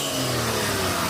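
A turbocharged Daihatsu Mira engine revving hard, a loud, close buzzing rasp that holds high and steady through the short burst.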